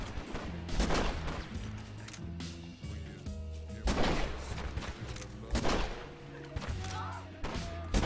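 Video game gunfire in a shooter, repeated sharp shots and bursts with heavy thumps and crashes, loud and close, coming in clusters over a game soundtrack.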